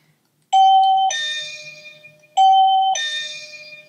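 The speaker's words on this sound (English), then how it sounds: "Pretty standard doorbell." An Avantek DT52 wireless doorbell chime plays its first of 48 sounds, a loud, close two-tone ding-dong rung twice in a row with ringing decay and no talking.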